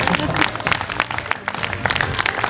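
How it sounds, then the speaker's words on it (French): An audience applauds with uneven, scattered claps and some crowd noise, fairly close and lively. "s'il vous plaît, on applaudit"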